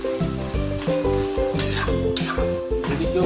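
Greens with whole poppy seeds are stirred and fried in a pan, giving a loud, close sizzle. A metal spatula scrapes and clinks rhythmically against the pan throughout.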